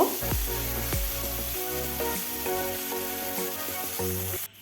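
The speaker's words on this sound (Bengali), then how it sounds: "মাছগুলো এখন আমি ভেজে নেব" Fresh small mola fish from the Torsa river fry in hot mustard oil in a kadai, a loud close sizzle with sharp bursts as pieces hit the oil, then steady frying over faint music.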